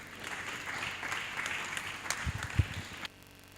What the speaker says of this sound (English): Round of applause for him once more